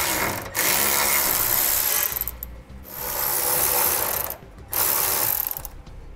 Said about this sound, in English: I'm going to be using a 10 millimeter socket to remove these.